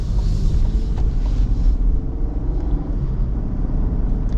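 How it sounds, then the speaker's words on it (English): Low, smooth rumble of a 2026 Cadillac CT5-V's 3-liter V6 while driving, steady cabin-level drone with road and wind noise, no voices over it. "Got lots of low-end torque from this 3-liter V6."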